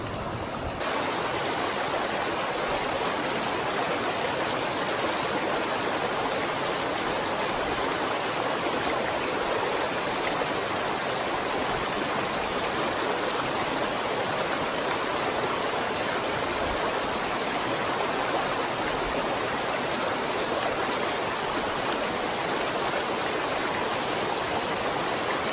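Snowmelt-swollen brook trout stream in Lycoming County, Pennsylvania, flowing high on a roughly 45-degree day, giving a steady, dense rushing wash of water that holds constant from start to finish with no voices.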